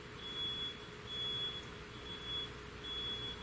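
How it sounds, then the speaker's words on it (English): Four steady electronic beeps, evenly spaced and fairly faint, sound over a low background rumble, each lasting about half a second. "Beep, beep, beep, beep noise."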